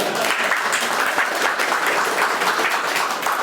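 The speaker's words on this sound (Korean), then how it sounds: "박수." Dense, steady applause from an audience at the opening ceremony of Samsung's C-Lab Outside Daegu campus, a continuous wash of many hands clapping at once.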